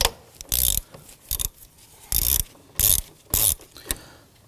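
A ratchet and socket loosening a nut on a 2005-2009 Subaru Legacy brake master cylinder, six short sharp bursts of rapid metallic clicking close by, with quiet pauses between them.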